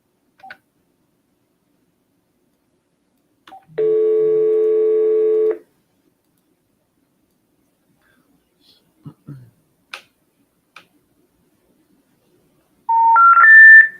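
A telephone dials with short touch-tone beeps, followed by a sustained call signal tone, then scattered clicks and a final burst of beeping tones, with quiet gaps between.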